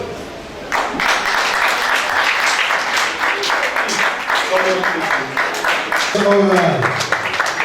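An audience at a school reunion claps loudly and continuously in a hall, with a voice speaking briefly over the steady applause.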